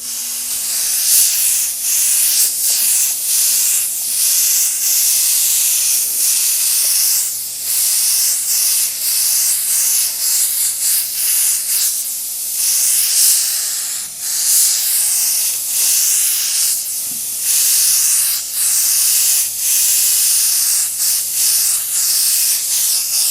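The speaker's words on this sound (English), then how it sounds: "When I spray the silver over the white areas" Silver spray paint hisses from an aerosol can over white areas, a loud, bright, continuous spray broken by short pauses and repeated bursts close by.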